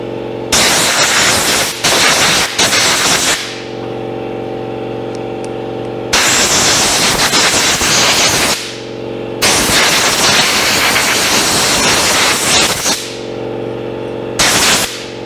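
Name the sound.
blowing dust out of a furnace fan with air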